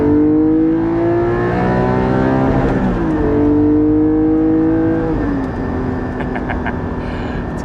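A Porsche 718 GT4 engine revs hard and climbs in pitch toward the rev limiter, drops back, then rises again, loud and close with no talking over it.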